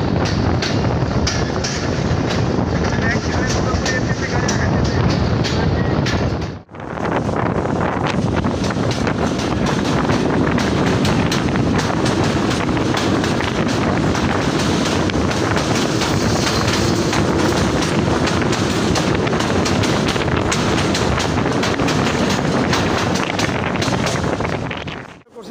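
Chilahati Express passenger train running on the Chilahati to Dhaka route, a loud continuous rumble and roar with heavy wind buffeting, unbroken for about 25 seconds apart from one brief dip near the start.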